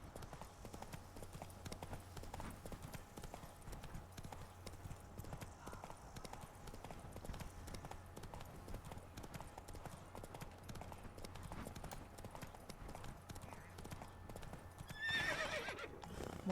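Hoofbeats of the horse Roach in the video game Witcher 3, a steady quiet clip-clop throughout, with a brief whinny near the end and faint background ambience.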